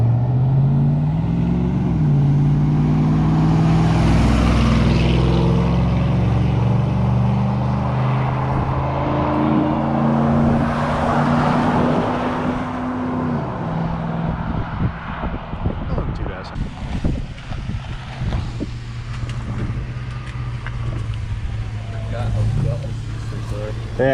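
A 2004 truck with a 5.3L V8 and longtube headers drives down the road, its deep exhaust drone rising and shifting through gears under steady talk from people inside.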